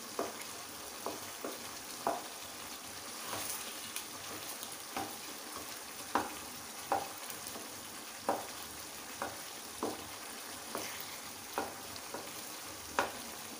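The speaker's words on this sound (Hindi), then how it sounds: "अभी हम टमाटर को अच्छी तरह से दबाकर मिक्स कर लेते हैं।" Tomatoes pressed and stirred into chicken in a Peshawari charsi karahi, a soft continuous sizzle broken by regular light scraping knocks of a spoon about once a second, close and fairly quiet.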